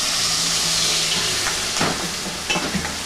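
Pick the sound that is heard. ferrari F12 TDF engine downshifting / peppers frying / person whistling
peppers frying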